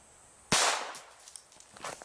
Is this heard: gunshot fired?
yes